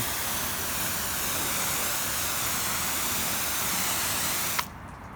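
Pressure-washer style water spray rinses a dirt-covered car, a loud steady close hiss that runs continuously, then cuts off abruptly near the end leaving quieter background.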